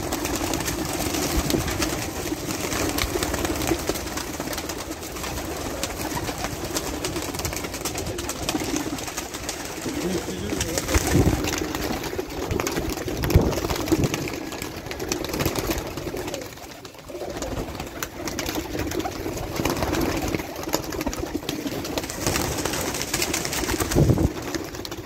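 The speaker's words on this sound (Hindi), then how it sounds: "परोवाजी कबूतर।" Around thirty flying pigeons on a rooftop in Jhelum city coo continuously, soft repeated calls under a steady busy outdoor background with occasional louder bursts, no talk.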